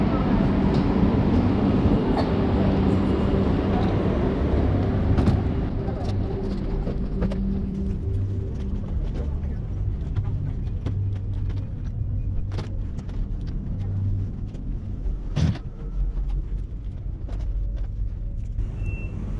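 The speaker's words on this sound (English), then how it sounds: "So this is the Shanghai Maglev, the fastest train in the world that's actually in production" The Shanghai Maglev train runs at speed, giving a continuous broad rushing rumble that stays loud and fairly even throughout, with occasional sharp clicks and bumps.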